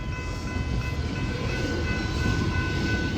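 A train passes the Main Hurstbridge Road level crossing in Diamond Creek, Victoria, where crossing bells ring. Its loud, steady rumble holds for the whole stretch under sustained ringing tones, with no voices.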